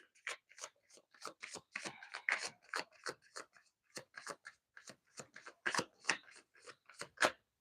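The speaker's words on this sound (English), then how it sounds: "I don't know why these cards don't want to shuffle" A deck of tarot cards being shuffled gives quiet, uneven bursts of riffling and rubbing, repeated about a dozen times, close by and with no talking.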